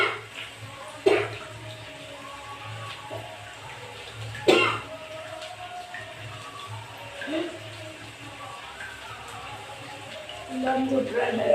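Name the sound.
coughing after eating spicy food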